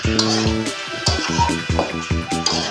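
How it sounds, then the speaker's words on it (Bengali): Mutton pieces sizzle and get stirred in a hot pan while being browned for curry, a steady frying hiss with scraping stir noises under a voice talking nearby. "এই যে মাংসটা কষাচ্ছি"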